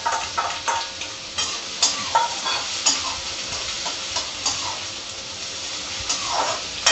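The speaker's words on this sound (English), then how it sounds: "And then now I will add onions." Chopped onions hit a hot pan with green chili for vermicelli upma, a steady oily sizzle with stirring scrapes and small clatters throughout, close and fairly loud with no talking.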